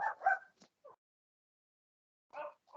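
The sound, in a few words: dog whining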